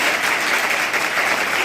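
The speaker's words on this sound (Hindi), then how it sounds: "एक बार जोरदार तालियां हो जाए मेरी बेटियों के लिए।" Loud, dense applause from an audience honoring schoolgirls at a government girls' higher secondary school ceremony, steady clapping filling the whole stretch with no voices over it.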